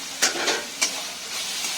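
Mohari chi Bhaji, a leafy vegetable dish, sautéing in a pan, with soft crackling sizzle and a few sharper stirring scrapes over a steady low frying hiss, close and moderately loud.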